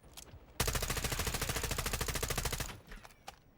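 A long, steady burst of rapid automatic gunfire in a shooter video game rattles loudly for about two seconds, preceded and followed by a few scattered single shots.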